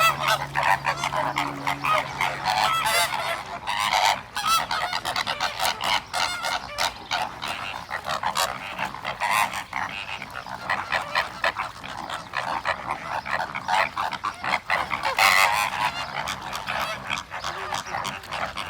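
Busy outdoor scene in the south of France with many birds calling, honking goose-like cries and barking-like calls overlapping continuously at moderate distance, with dense chatter across the whole stretch and no clear speech.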